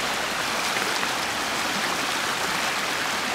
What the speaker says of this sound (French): On est dans un endroit où il y a une petite rivière au milieu.